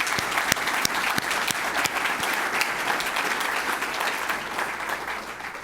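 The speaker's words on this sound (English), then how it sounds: "Let's give them another round of applause." A crowd at a Central Ohio community planning presentation claps steadily and evenly throughout, with sharp individual claps standing out in the dense applause and no voices.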